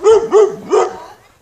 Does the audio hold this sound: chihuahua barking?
yes